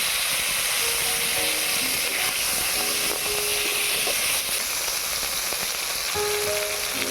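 Potato pieces fry in a pan with salt and turmeric, a dense, continuous sizzle and crackle held at an even, close level throughout.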